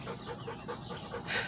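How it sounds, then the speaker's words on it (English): Dog outdoors on a farm after hot weather, panting heavily in a steady quick rhythm of short breaths, close but faint. "That's my dog breathing heavy."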